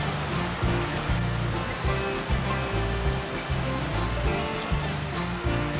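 A river rushes past a campsite at Elkmont, a loud, continuous broadband roar of flowing water with occasional low thumps, close by and without voices.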